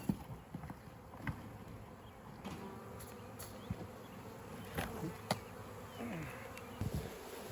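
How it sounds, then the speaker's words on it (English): A swarm of bees buzzing around a pole and a capture box outdoors, a soft continuous hum with scattered close passes and faint knocks. "So most of the bees are off the pole, and there's a whole lot of bees in that box"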